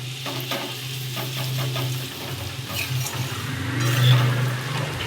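Jaggery and amla (Indian gooseberry) are stirred together in a hot pan for pickle, giving a rhythmic series of scraping strokes over a steady sizzle that swells slightly toward the end.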